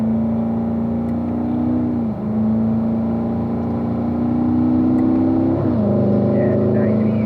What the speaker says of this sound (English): Kind of do a shakedown of the car right now.